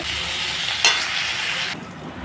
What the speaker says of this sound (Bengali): বেগুন আলু ভেজে নিলাম।